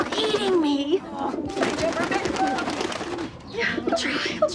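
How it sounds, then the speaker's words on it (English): Pigeons coo through a TV soap opera scene, a soft, repeated cooing mixed into the soundtrack beneath a woman's continuous anxious speech. "These pigeons are eating me."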